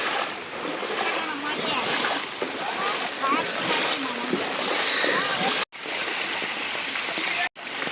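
Floodwater rushes and splashes across flooded paddy fields in a village, a constant broad roaring wash with spattering, heard close, while someone talks over it throughout.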